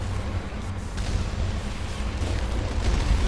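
A ship's cannon firing at rocket drones in the video game Mass Effect, heavy booming blasts rumbling in a steady barrage over a thick low roar, with no voices present.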